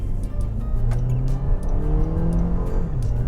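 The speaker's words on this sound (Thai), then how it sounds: "แคคอร์ดตัวนี้เครื่องยนต์ R20 ตอนออกตัวจะเป็นไงนะครับ ไปครับ" Honda Accord 2.0 EL from 2013 with an R20 engine pulling away from a standstill, a steady close engine drone that rises in pitch as it accelerates through the gears, with no talk over it.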